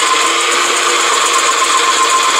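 A food processor slices cucumber, giving a steady, loud motor whine with a bright, even hum that runs without a break and with no talking.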